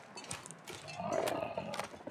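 A bear in The Long Dark, a survival video game, lets out a low, rough burp-like growl, one drawn-out rumble near the middle, moderately loud over the game's background sound.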